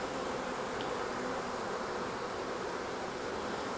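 Swarm of honey bees buzzing as a dense, steady hum, close and continuous, with no voices.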